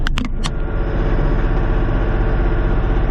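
A Kioti 3510SE compact tractor runs at about 1,900 RPM while clearing a snowy driveway, a steady low, loud engine drone after a few brief clicks at the start, with no talk.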